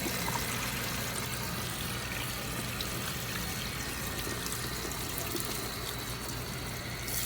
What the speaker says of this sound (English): So you gotta water rinse this for 5 minutes.